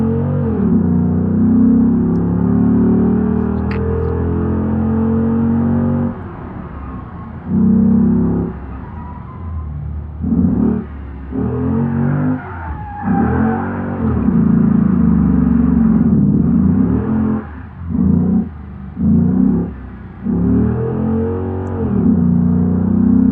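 Engine of a Gavril Barstow IV muscle car in BeamNG, loud and close, revving and accelerating during drifting runs, with repeated drops and surges in pitch as the throttle is lifted and reapplied.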